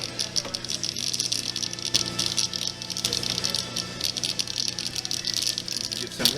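A water pump fitted with a new head runs steadily, giving a continuous mechanical rattle and buzz with a bright high-pitched whine, close and fairly loud throughout.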